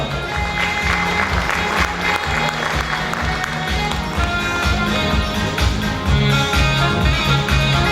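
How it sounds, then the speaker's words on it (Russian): A seated audience at an agricultural workers' day award ceremony applauds steadily while background music plays beneath the clapping, which holds a fairly constant level throughout. "Еще раз ваши бурные аплодисменты"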